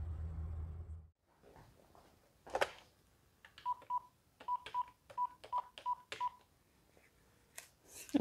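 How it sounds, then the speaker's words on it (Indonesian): Telephone keypad dialing tones, a quick series of short, evenly spaced beeps in the middle of the clip, each tone brief and fairly clear over a quiet room with a few soft knocks. "Aku telepon nyonya ya, kita kabarin."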